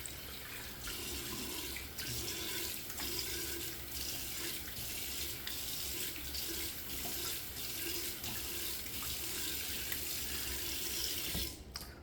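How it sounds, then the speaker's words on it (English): Cold tap water running steadily into a sink while someone rinses their face, a constant close hiss of flowing water with small splashes and breaks throughout. "Let me rinse my face off real quick with some cold water."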